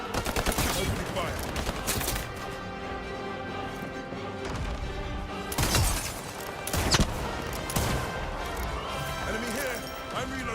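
Gunfire in the shooter game Highguard comes in repeated bursts and sharp cracks, with heavier impacts near the middle. Voices talk over the shooting throughout.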